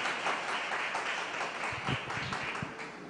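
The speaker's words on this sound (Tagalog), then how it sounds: "Sabay-sabay nga nating palakpakan ng ating mahal na Panginoon" A church congregation applauds together in a dense, steady burst of clapping, fairly close and sustained, with a few deeper thumps underneath.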